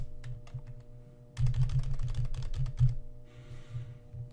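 Clattering keystrokes on a computer keyboard or calculator while entering a complex-number powers of i problem, a dense run of close, loud taps over a low steady hum, with no talking.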